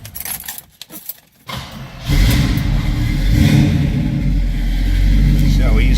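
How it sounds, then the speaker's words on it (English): A 1969 Pontiac Firebird with a 350 HO V8 cranks briefly, then catches and settles into a loud, steady, rumbling idle close by, with some clatter of keys before the start. "Let's go ahead and fire this car up."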